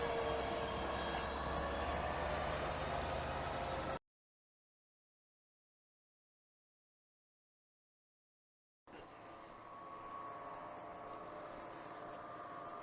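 Steady mechanical rumble and hum of the Daiti Express cable car gliding between Tirana and Dajti National Park, broken by several seconds of total silence before the drone returns slightly quieter.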